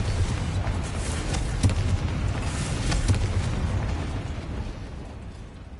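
Magical Confringo blasting-spell explosion: a heavy, booming rumble with a few sharper bursts on top, loud and sustained before slowly dying away.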